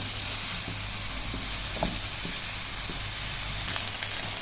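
Chopped onion fries in a pan until soft and light pink, a steady close sizzle with occasional faint stirring scrapes and no talking.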